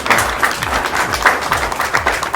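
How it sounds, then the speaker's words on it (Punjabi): A comedy show audience claps together in a dense, lively burst of applause that stays loud and steady throughout. "ਆਪਣੇ ਆਸਤੇ ਤਾੜੀ ਮਾਰ ਲਓ"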